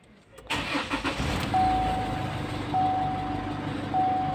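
A 2020 Chevrolet Trailblazer with a low-power fault cranks briefly and catches, then settles into a steady, close idle hum.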